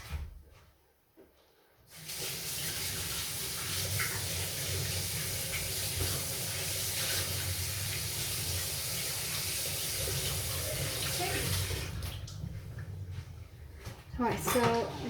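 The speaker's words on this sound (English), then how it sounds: "Just going to wash my hands." A kitchen tap runs steadily for about ten seconds while hands are washed during pumpkin soup preparation. The flow is a broad, even hiss that starts abruptly, then cuts off near the end, followed by a few brief clatters.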